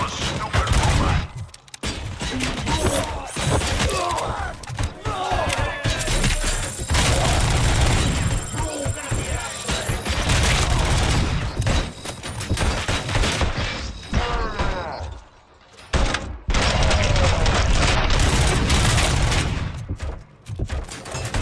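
Rapid bursts of gunfire with heavy booms and crashes in the Robocop: Rogue City video game, loud and nearly continuous with brief lulls, mechanical clanks mixed in and a voice talking underneath.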